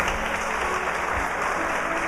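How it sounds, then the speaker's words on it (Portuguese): A church congregation applauds during a Christmas service, a steady dense wash of many hands clapping at once, close and full, with no talking over it. "Você pode aplaudir o Senhor."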